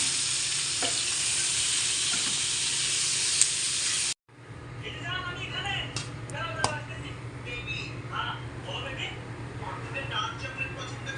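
Food fries in a pan, a loud steady sizzle and hiss that cuts off abruptly, followed by quieter stirring, clinks and a softer crackle.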